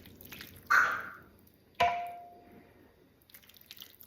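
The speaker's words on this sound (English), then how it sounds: "I'll take some of this yummy stew and just put it on top, maybe 3 scoops, and get some of the liquid." Two separate scoops of chicken stew and its liquid land on top with soft, wet plops, close and fairly quiet, each followed by a brief drip and then near silence.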